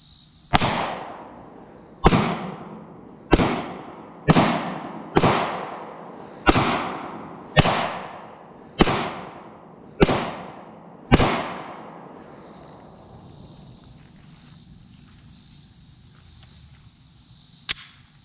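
Shots from a Springfield XDM 10mm pistol fired outdoors: about ten sharp, loud reports at a steady, unhurried pace, each followed by a short echo, then quiet.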